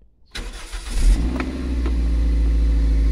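A Toyota MR-S engine with a stainless steel exhaust starts up, revs briefly, then settles into a steady, low, muted idle, close and fairly loud, with no talk.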